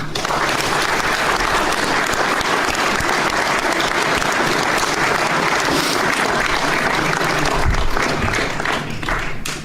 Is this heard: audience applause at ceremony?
yes